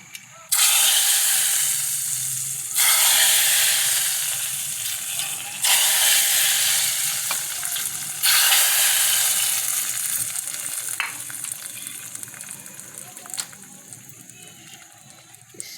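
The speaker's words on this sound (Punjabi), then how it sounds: "ਤੜਕਾ ਸਾਡਾ ਤਿਆਰ ਹੈ" Tadka for a mixed chana and mash dal hits hot oil in loud, bursting sizzles, several waves of crackling spatter that flare up and then die down, with no talking.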